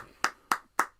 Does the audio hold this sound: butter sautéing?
no